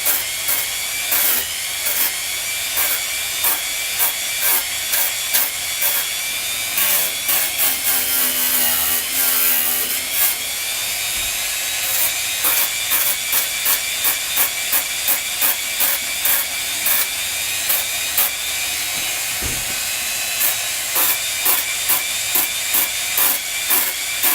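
Sanding along the edge of a Plastidip-coated shield, a continuous loud abrasive hiss broken by rapid rhythmic strokes throughout.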